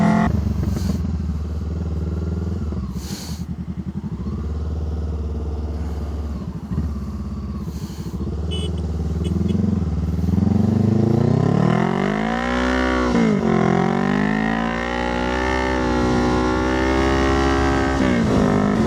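Motorbike ridden along a sandy beach on an island at high tide, a loud close engine droning steadily, its pitch rising and falling with repeated revving and shifting as the ride continues, with wind buffeting.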